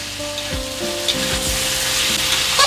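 Potato and pointed gourd frying in spiced oil for a prawn dish, a steady close sizzle with a few soft stirring scrapes and clinks of a utensil against the pan.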